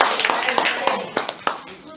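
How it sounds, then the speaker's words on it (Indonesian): At a learning-community workshop, the audience gives the first speaker a brief round of uneven applause. The claps are close and scattered, with some voices mixed in. "Tepuk tangan dulu dong buat narasumber kita yang pertama."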